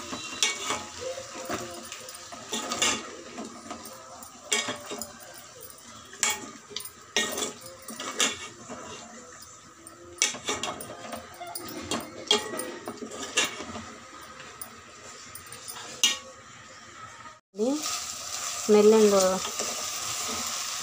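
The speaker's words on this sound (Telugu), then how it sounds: "అల్లం వెల్లుల్లి పేస్ట్ వేసుకొని బాగా కలిపేద్దామండి." Ginger garlic paste being stirred while it fries in a pan, with repeated scraping and clinking of a utensil against the metal over a soft sizzle, ending in a louder burst of frying.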